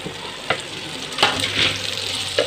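Boiled potatoes being stirred with jeera and spices in a hot pan for sour-sweet aloo, steady sizzling broken by a few scraping spoon strokes, close and without talk.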